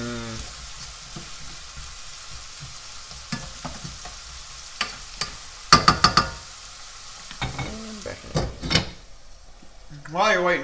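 A spoon scrapes and clinks against a pot of mushroom beef soup made with leftover roast and drippings, with a soft simmering hiss underneath and a few sharper metallic knocks near the end.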